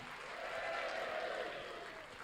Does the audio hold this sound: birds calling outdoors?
no